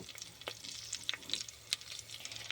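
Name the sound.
garlic, curry leaves, mustard, cumin, chilies frying in oil in cooker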